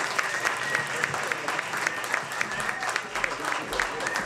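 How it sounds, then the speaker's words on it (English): Steady applause from an audience fills the whole stretch, dense clapping with crowd murmur underneath, continuous and fairly loud. "Please acknowledge Pam by way of applause."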